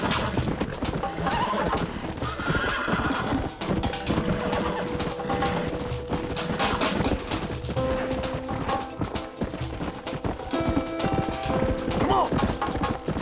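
Rapid hoofbeats clatter nonstop alongside horse whinnies, shouting voices and music in the video game Red Dead Redemption, a busy, loud scene with no pause.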